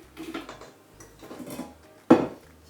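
Buttercream for rainbow cupcakes scraped from a mixing bowl, with soft scraping scuffs and a sharp clatter of a utensil against the bowl near the end, close and clear.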